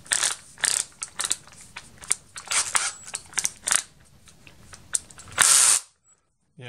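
Power drill with a flat bit driving screws into an aluminum three-panel window frame, short repeated whirring bursts with brief pauses, then a longer high whine before stopping.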